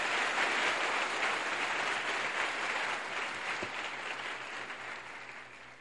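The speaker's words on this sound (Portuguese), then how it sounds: "Bata palmas mais fortes." An audience at a Catholic prayer group led by a priest claps hands together, a broad, sustained wash of applause in a large room that gradually softens.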